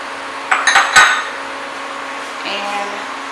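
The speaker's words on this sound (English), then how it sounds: "Placing the scallions here into the pan." Scallions going into a pan, several close metallic clinks and knocks of pan and utensil over a faint background hum, then a softer rattle.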